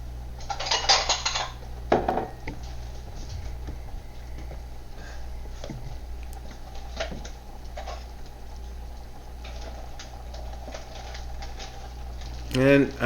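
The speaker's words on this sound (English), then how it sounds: "So I'm going to stir the veggies now, make sure it's well coated in the sauce." Vegetables are stirred through sauce in a pan with a spoon, making light, irregular scraping and clinking against the metal, mostly soft and close, with a sharper clatter near the start and again at the end.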